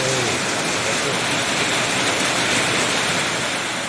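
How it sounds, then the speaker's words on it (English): Rain falling outdoors during a cordless paint sprayer demonstration, a dense, steady hiss of rainfall filling the whole clip with no break. "Sorry about the rain."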